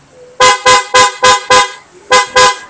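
A loud, brassy aftermarket PIAA horn on a Honda ADV160 motorcycle blasts seven times up close. The short, punchy honks come in a quick series with a brief pause near the end.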